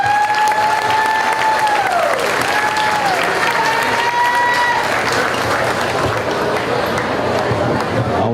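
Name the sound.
applause at county fair cattle show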